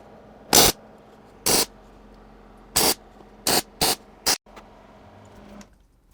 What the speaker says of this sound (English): Just pop a quick weld on there to keep those from spinning around.